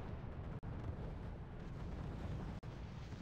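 Artillery barrage in the strategy game RUSE, a continuous deep rumbling roar of blasts with two abrupt dropouts, loud and dense throughout.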